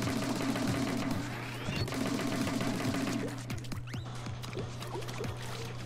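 An ink weapon fires in Splatoon 2 as a rapid, even stream of splattering shots, followed by irregular wet splats and pops, with a steady game hum underneath.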